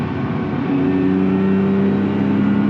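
A rally car accelerating out of a corner on the Nogaro circuit, its engine rising in a steady loud drone that climbs in pitch, heard close from inside the car with no talking.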